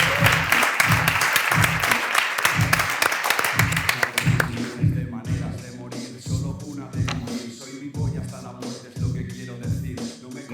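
An audience claps and cheers for Andrés at a live interview show, a dense burst of applause for about four seconds that then thins into scattered claps, shuffling and murmuring.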